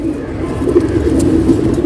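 Pigeons kept by a breeder coo in low, rolling, repeated calls, close and fairly loud, with a faint hum of background noise.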